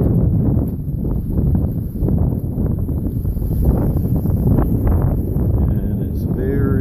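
Wind gusts roar and buffet the microphone continuously, a rough, noisy rush with faint rustling underneath.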